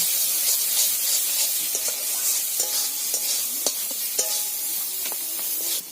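Ground roasted spice masala stirred and fried in a pan for a Bengali fish curry with bottle gourd, a continuous close sizzle and hiss punctuated by repeated clinks and scrapes of a spoon against the pan.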